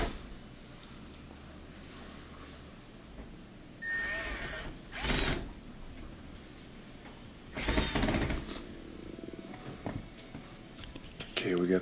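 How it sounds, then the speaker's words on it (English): Screws driven into the panel of an LG washer/dryer with a power driver, a few short whirring bursts rising above a quiet room, with people talking at low level. "we'll put in those two screws at the upper right"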